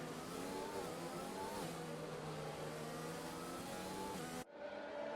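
Several F1 2020 video game cars rolling round a Spanish GP track on the formation lap, a steady, continuous mid-pitched engine drone with gentle revving, loud and unbroken until an abrupt cut near the end.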